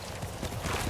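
Horse hooves clip-clopping in Ghost of Tsushima, a brief burst of a few close, muffled hoofbeats with no talk over them.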